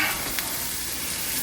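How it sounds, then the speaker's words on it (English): A little olive oil heating in an egg skillet gives a brief, steady hiss with a faint tap of a utensil, close and continuous, without speech. "Put just a little bit of olive oil in there. I'm warming that egg skillet up."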